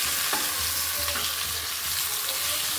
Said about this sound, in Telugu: ఈ టమాటా వేసి బాగా కలుపుకోవాలి.